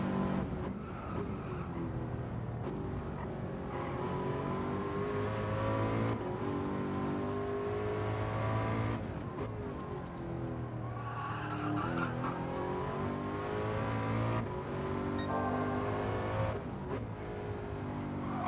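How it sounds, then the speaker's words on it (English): A Ford GT Gr.3 race car in Gran Turismo: a sustained, droning engine note that climbs and falls through repeated revs and gear shifts, steady and moderately loud, with faint tire squeal in places. "This is the Ford GT you need to rev the shit out of."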